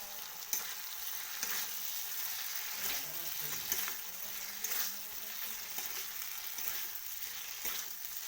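Pakoras sizzling and frying in a pan while a vegetarian cabbage curry is made at home, a steady close hiss with occasional stirring scrapes and no talk.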